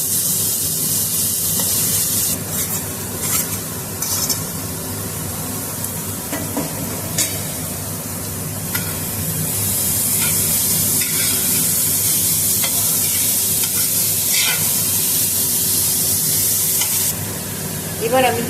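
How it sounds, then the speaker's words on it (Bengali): Grated cauliflower added to hot oil with white and black cumin seeds, frying in a pan with a loud continuous sizzle, broken by scraping stirs from a spatula. "এবার আমি দিয়ে দেবো গ্রেট করা ফুলকপিগুলো।"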